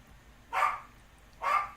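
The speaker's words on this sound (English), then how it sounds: "And so it's the dog." Two sharp barks from a noisy pet dog indoors, about a second apart, moderately near against a quiet low hum.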